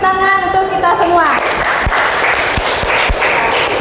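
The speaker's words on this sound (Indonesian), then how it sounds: "silakan tepuk tangan untuk kita semua." Group applause from students in a Catholic religious education class, a burst of clapping that starts after a voice fades out and continues as scattered, fairly loud claps with a few sharp hits.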